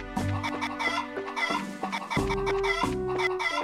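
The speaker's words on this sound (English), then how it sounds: "Chickens!" Chickens cluck over and over in Trails in the Sky FC, busy bursts of fowl calls layered over steady tonal game music.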